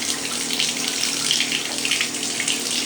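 Warm tap water gushes steadily from a faucet during a dog's bath, a dense, even hiss of running water with no pauses and no voices.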